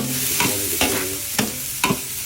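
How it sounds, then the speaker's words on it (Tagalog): Garlic, onion and ginger sauté in hot oil with a steady close sizzle, while a utensil scrapes and knocks against the pan in four or five quick regular strokes. "maglagay tayong bawang sibuyas, luya"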